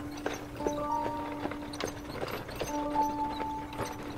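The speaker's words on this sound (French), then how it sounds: "on ne perçoit que le grincement des essieux et le martèlement des pas des chevaux sur le sol durci" Horse hooves clip-clop on hard, frozen ground as a carriage rolls along, a steady walking rhythm of soft knocks under sustained tonal sounds, with no talk.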